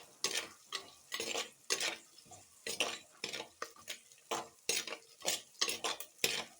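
Sliced onions sauté in a pan for a spicy radish and potato kuzhambu while a spoon stirs them, giving steady scraping and clattering strokes over a soft sizzle, close and without talk.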